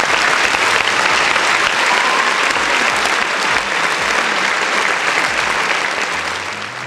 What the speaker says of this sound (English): Listen, round of applause for the folks in the chat.